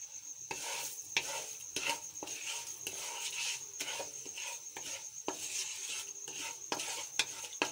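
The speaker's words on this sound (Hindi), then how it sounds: "अब हम इसमें चीनी डालेंगे।" Sugar stirred into hot desi ghee in a kadhai for lauki halva: continuous soft sizzling and scraping of a spoon against the pan, with repeated stirring strokes and occasional metallic clinks, close and fairly quiet.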